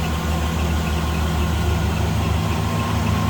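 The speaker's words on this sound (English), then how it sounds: "Nice running engine. Sounds good, looks good underneath there." A 1950 Mercury two-door street rod's V8 with a Holley four-barrel carburetor and MSD ignition idles steadily with a deep, even rumble, close and constant with no voices.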